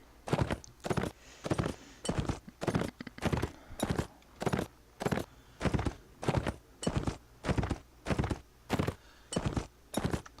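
Rhythmic horse hooves in the video game Mount and Blade Warband, a steady galloping pattern of thudding footfalls repeating in pairs for about ten seconds, close and clear.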